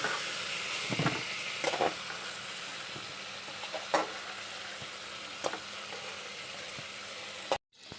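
Ridge gourd and potatoes frying in oil in a pan: a steady close sizzle with occasional scraping stirs and sharp clinks of a utensil, stopping abruptly at the end.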